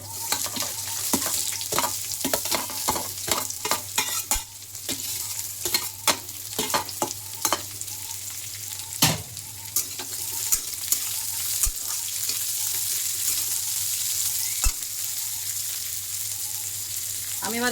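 Fried carrots and beans are stirred in a sizzling pan, with a busy run of quick scrapes and clatters early on that thins to occasional knocks over continuous frying hiss. A low hum sits beneath.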